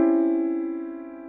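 Keyboard chord held and slowly decaying, with an added note that makes it slightly grating and dissonant, sounding alone, steady and clear for a little over a second.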